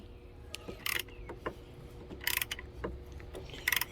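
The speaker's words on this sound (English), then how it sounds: "When you start getting into the bigger part of the tap, give it another thing of oil shot, and just take your time" A thread tap cuts new threads with oil while a Kawasaki KE175 basket case is being assembled, giving irregular metallic clicks and ratcheting crunches, close and fairly faint over a low background hum.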